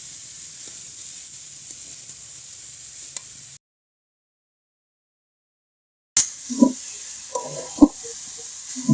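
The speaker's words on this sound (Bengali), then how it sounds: "এই যে আমি ফুলকপি ভাজা করছি" Steady, soft sizzling of cauliflower frying in a pan, a brief silent gap, then more sizzling with clinks and scrapes of stirring.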